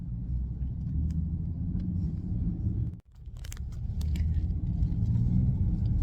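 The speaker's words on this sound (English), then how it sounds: "we're stuck in traffic" Inside a car stuck in stop-and-go traffic: a low, steady engine and road rumble fills the cabin, briefly dropping out mid-clip before resuming slightly louder.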